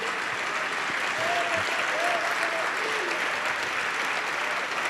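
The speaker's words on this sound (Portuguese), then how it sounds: "Isso, vamos aplaudir mais o Senhor Jesus." A church congregation claps steadily in a dense, sustained wash of applause, with a voice singing or calling faintly over it.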